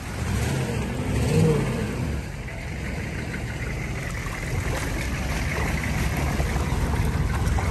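A Humvee fitted with a snorkel drives through deep water, with a steady, heavy engine drone and broad water rush that hold continuously and close, swelling slightly early on.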